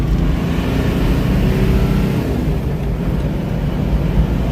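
A 34-year-old Toyota Land Cruiser 60 series with a swapped-in manual transmission pulls hard in third gear, giving a steady, loud engine roar from inside the cabin with road noise and no break.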